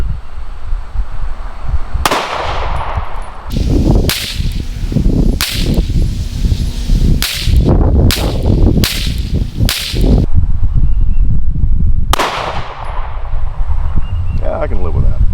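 Pistol shots from a Staccato C with a Sig ROMEOZero dot sight, firing 124 grain Federal ammunition at a 15-yard range: about ten sharp, loud reports, first spaced apart and then a faster string, with one last shot after a pause.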